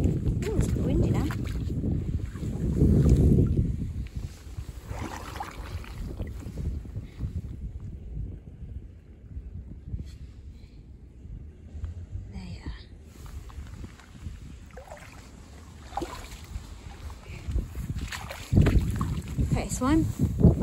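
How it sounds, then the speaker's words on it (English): Gusty wind buffets the microphone in low rumbling bursts, strongest at the start and end, with faint outdoor noise between. "it's a bit windy now"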